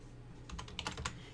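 Quick keystrokes on a computer keyboard while entering a measurement, a short burst of close, soft clicks ending in a firmer key press, with no talking.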